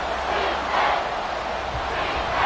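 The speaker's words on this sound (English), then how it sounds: "The Arrowhead crowd in full roar." Stadium crowd at Arrowhead roaring in the Madden 24 football game, a dense, loud, continuous wash of cheering with no breaks.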